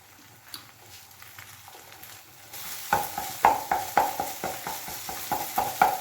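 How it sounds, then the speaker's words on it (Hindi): Eggs hit hot ghee in a pan for Chinese-style fried rice. A quiet start turns into a loud sizzle, followed by a steady run of rhythmic spatula scrapes and taps, near and alone. "अब मैं इसमें ये अंडे डाल देती हूँ।"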